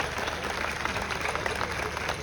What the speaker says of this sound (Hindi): एक बार तालियां तो बजती है इनके लिए ना।